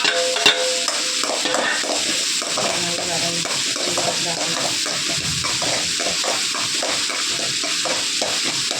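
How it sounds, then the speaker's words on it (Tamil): Garlic fries in a pan with a steady, close sizzle, overlaid by repeated scraping and stirring sounds at a regular pace. "பூண்டு போட்டுக்கலாம்."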